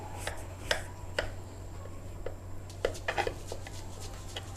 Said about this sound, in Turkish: Hamurumu diyeyim. Dilimleyeceğim.